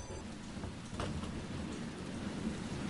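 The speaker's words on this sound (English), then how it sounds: "It sure is stormy." Stormy rain in the Resident Evil 2 video game, a dense continuous hiss of falling rain with a low rumbling undertone, heard alone at a fairly quiet level.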